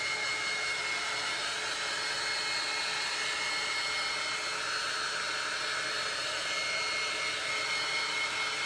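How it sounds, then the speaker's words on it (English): A hair dryer blows steadily and up close while drying a painted Halloween and harvest porch sign, a continuous airy whir with no break and no voices. "I'm going to go ahead and blow dry this"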